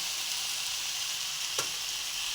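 Ground spices sizzling steadily in hot oil in a pan, seasoned with turmeric, chilli powder and salt before the greens go in; a continuous close hiss with one brief clink or stir near the end, no talk.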